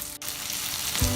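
Fish frying in a pan over a low flame, a close, steady crackling sizzle of hot oil that continues throughout with a brief dip and a louder burst of sputtering near the end.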